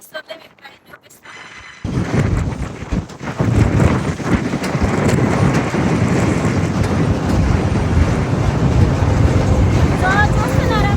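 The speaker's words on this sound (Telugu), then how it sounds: "ఘోరంగా గాలి వస్తుంది అనమాట" Strong wind gusting at the Friendship Bridge, which opens after a quiet first two seconds as a loud, sustained roar of wind buffeting the microphone that persists to the end.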